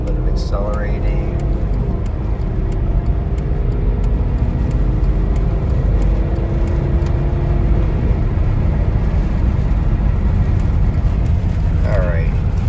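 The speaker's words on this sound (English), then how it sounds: "I've got a merge here. Highway, a little bit of accelerating." A car accelerating as it merges onto a highway, heard from inside the cabin: a loud, steady wash of engine and road roar with a faint rising engine tone, and brief bits of a voice near the start and end.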